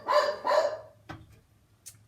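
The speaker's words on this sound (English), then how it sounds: "Tucker, the dog wants me. The man is outside" A dog indoors gives two loud, close barks in quick succession, followed by a short yip and a faint higher whimper, with no speech over it.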